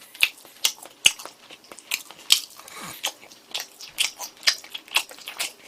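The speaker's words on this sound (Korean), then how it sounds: "이럴 때는 또 떡볶이하고 같이 먹으면 되지" Close, wet chewing and biting while eating tteokbokki, with rhythmic mouth sounds recurring about every half second.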